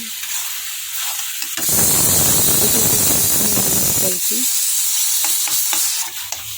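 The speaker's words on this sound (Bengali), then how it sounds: "এর মধ্যে কষে নিচ্ছি ভালো করে একদম কষিয়ে তারপর প্রেসারে ভরবো" Meat sears loudly in a pan before pressure cooking, a burst of intense, close sizzling and spattering that swells after a quieter start and eases off near the end, with some faint background voice.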